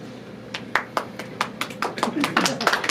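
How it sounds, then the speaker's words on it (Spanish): An audience claps at a year-end Christmas Bible talk in Monterrey, with scattered, uneven hand claps that start sparse and grow denser toward the end, heard fairly close and mixed with voices. "Porque me aplauden, ¿no?"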